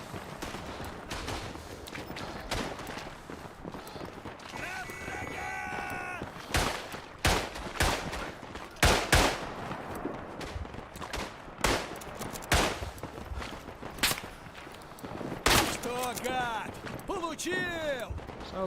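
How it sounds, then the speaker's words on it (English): Gunfire from the Tannenberg video game rattles in repeated sharp volleys and scattered single shots, some close and loud, others more distant, with someone talking throughout. "Sounds like there's someone shooting at us from over there."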